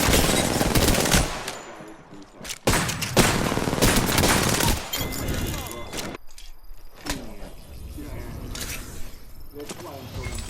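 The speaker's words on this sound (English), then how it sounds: "They spotted me. I'm taking shots." Rapid bursts of automatic gunfire from a shooter video game crackle in loud, clustered volleys separated by short lulls, with a voice speaking over parts of the action.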